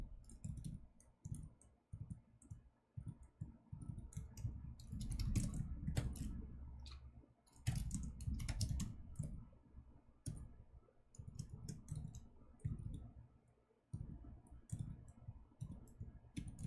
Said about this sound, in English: Typing that list.